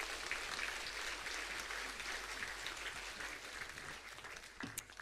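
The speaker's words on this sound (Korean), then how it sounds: "우리 총무님 고생 많이 하신다고 우리 박수로 우리 모시겠습니다." A church congregation applauds at a Sunday worship service in Daejeon, welcoming a visiting pastor, with steady dense clapping from many hands throughout and no talk over it.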